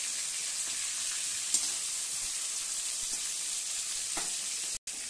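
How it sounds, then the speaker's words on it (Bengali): Garlic and onion with dry red chilli and nigella seeds frying in oil in a kadai, a steady close sizzle running throughout with a few faint stirring scrapes and a brief dropout near the end. "এখানে রসুন পেঁয়াজগুলো ভাজা হচ্ছে"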